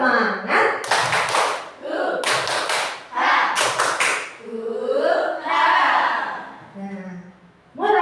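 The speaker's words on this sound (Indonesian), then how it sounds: "Coba tepuk semangat dulu." A classroom group performs a rhythmic Indonesian 'tepuk semangat' clapping chant, bursts of sharp unison claps alternating with chanted voices in a quick, patterned beat, loud and close.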